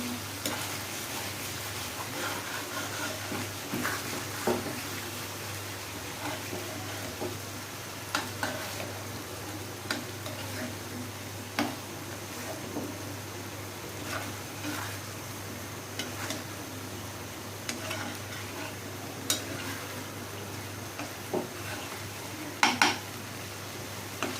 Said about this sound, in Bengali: আমি এখন একটু লাড়াচাড়া দিয়ে দিচ্ছি।